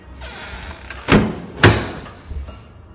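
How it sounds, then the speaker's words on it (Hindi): A door swings shut by itself in a room, landing as two heavy wooden thuds a half-second apart, with a softer knock trailing after, set against quiet room tone. "पीछे से उस कमरे से बाहर जाने का दरवाजा अपने आप बंद हो गया।"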